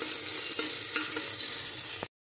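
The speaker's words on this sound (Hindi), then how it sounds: "मूँगफली के दाने भी डाल देते हैं इन्हें भी अच्छे से भून लेते हैं" Peanuts roast in a pan, giving a continuous close sizzle with a few scraping stir strokes through it before the sound cuts off abruptly.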